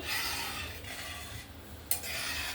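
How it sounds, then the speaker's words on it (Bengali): Spices and water being stirred in a pan while making Bengali pabda fish curry, a steady close scraping and rubbing with a brief clink near the end, no talk. "এবার আমি মশলার সঙ্গে ভালো করে একটু নাড়াচাড়া করে নেব"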